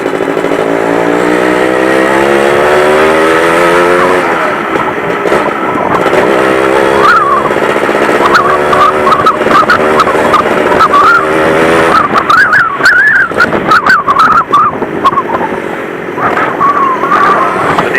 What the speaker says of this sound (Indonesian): ini kalau mesinnya udah teriak-teriak, jangan lupa ditambahin giginya ya guys